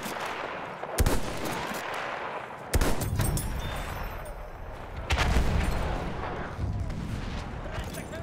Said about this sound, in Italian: Attenzione, mitragliatrice!